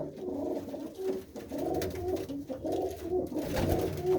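Pigeons coo in a low, throaty, repeated rhythm at close range, kept by a fancier at a village fair where pigeon flying is held, with no talk over them.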